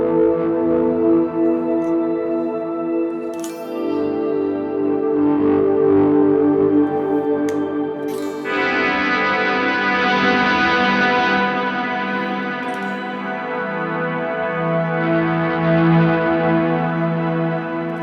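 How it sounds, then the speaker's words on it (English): Electric guitar run through shimmer, chorus, delay and reverb effects in a hot live rig, sustained chords swelling into a bright, slightly distorted wash with a high shimmering layer and long echoing tails, played alone with no talk. "It's not this extremely clean shimmer and swell sound."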